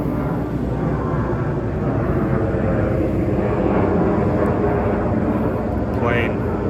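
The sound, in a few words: airplane flying overhead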